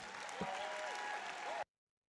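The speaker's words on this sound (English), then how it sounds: "let's give him a big round of applause while I get this video fired up for you" Applause from an audience at a City High school event, a broad wash of clapping with a faint tonal whine running through it, cutting off abruptly after about a second and a half.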